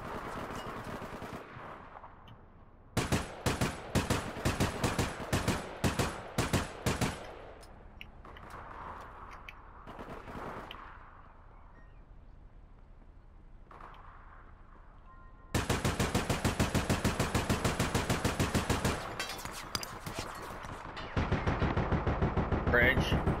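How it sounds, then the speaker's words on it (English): Bursts of automatic gunfire from the online shooter game APB Reloaded, rapid loud volleys in several long strings with quieter gaps, while players talk over the action. "Now you shoot at me now."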